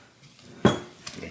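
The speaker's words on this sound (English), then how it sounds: "So I'm going to use a spatula and scrape everything down." A spatula scraping down a mixing bowl of gluten-free pizza dough, one sharp clunk against the bowl followed by a lighter clink, close and brief with no speech.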